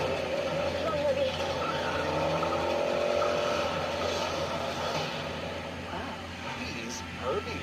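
Race car engine surging and tires skidding from Herbie, the Volkswagen Beetle, a steady loud roar across the whole stretch with a rising whine, and voices talking over it.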